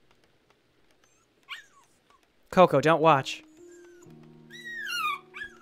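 A dog in the video game Warcraft 3 whimpers and yips in a few short, high, wavering cries between stretches of quiet, with someone speaking in between.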